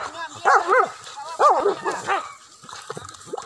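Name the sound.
dogs barking during wild boar hunt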